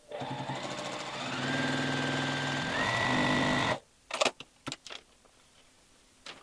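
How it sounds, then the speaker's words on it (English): Sewing machine stitching pieces of a foundation paper-pieced quilt, running steadily for nearly four seconds and then stopping, followed by a few short clicks and handling noises. "we'll sew these 2 sides on"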